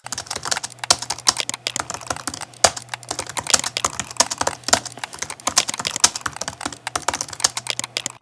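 Fast, irregular keystrokes clatter on a computer keyboard, close and clear, with bursts and short pauses over a low steady hum.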